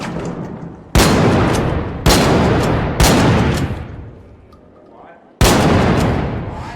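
Four loud, sharp shotgun blasts from the video game Arc Raiders ring out at irregular intervals, each with a long decaying tail, with a longer pause before the last shot.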